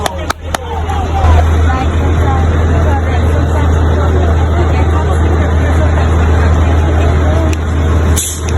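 A school bus idles in rural Jamaica, its engine a steady loud low rumble throughout, with a few sharp knocks and clatters near the start and a hiss near the end as people talk faintly in the background.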